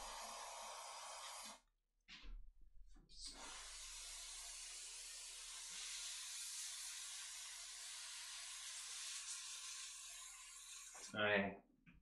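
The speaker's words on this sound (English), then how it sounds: "I'm gonna hit it with some magic spray anyway." Aerosol magic spray on an overclocking setup, long continuous hissing bursts: a short spray, a brief pause, then a sustained blast of about eight seconds, followed by a faint voice at the end.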